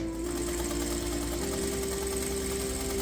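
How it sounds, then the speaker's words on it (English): Close and steady, a sewing machine stitches a fabric sweatband into a Panama hat, running as a continuous rapid mechanical whir with a slight pitch shift partway through and no voices. "I'm going to sew the band"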